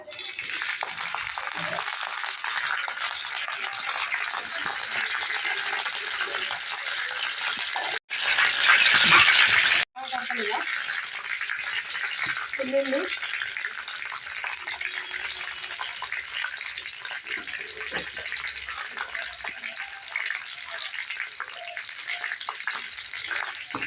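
Curry leaves hit hot oil in a home kitchen pan, giving a constant crackling sizzle with a sudden louder spitting burst lasting about two seconds before settling back to steady frying.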